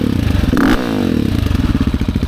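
A 700cc engine fitted with a Rottweiler intake, emissions delete kit, full titanium exhaust and tuner revs hard up close, a loud barking burst followed by rapid choppy pulsing idle with clattering mechanical rattle, in a frozen tundra setting.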